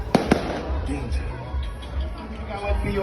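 Fireworks popping and booming in the distance at a fireworks display in Bagong Ilog, Pasig City, a couple of sharp cracks early on, with a person talking over the noise.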